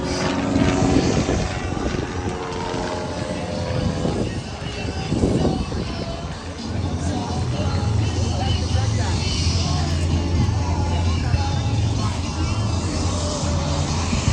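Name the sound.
aerobatic propeller airplane performing at airshow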